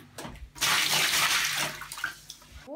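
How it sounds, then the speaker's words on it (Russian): In an apartment, water pours from a ceiling light fixture, a sudden steady rush of falling and splashing water that swells loudly, then tapers toward the end. "И вот так вот время от времени подбегает вода."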